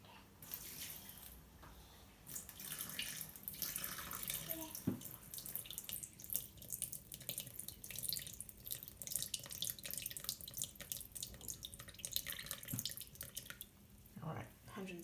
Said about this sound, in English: So I'm going to add 170 grams of water to that.